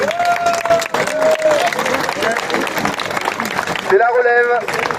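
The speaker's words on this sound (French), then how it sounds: "On peut les applaudir." A crowd at an outdoor metal-detecting rally claps for a group of young detectorists, the applause mixed with lively chatter and cheering, and some tonal whistling or voices cutting through near the end.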